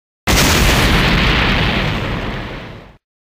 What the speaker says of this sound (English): I'm gonna explode!